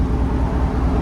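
A 2019 Chevy Tahoe 5.3L V8 with a Borla ATAK exhaust gives a short, steady, deep exhaust rumble, loud and close, with no talking.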